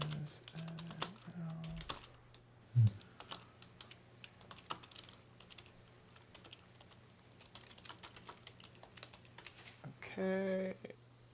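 Computer keyboard typing during a livestream: scattered, faint clicks under room hum, with a brief louder thump and a few short voice bits near the end.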